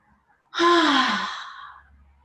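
One long audible exhale at the end of a yoga session, starting with a voiced sigh and trailing off into breathy air over about a second and a half, close and clear against silence.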